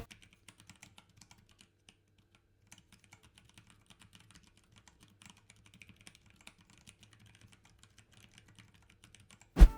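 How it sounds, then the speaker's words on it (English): Typing on a mechanical keyboard with Kailh Speed Copper tactile switches, a steady stream of light quick clicks at close range ending in a sharp louder knock. "Kailh Speed Copper switches are designed for rapid action while still providing a tactile feel."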